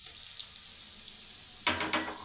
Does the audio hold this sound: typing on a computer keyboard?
no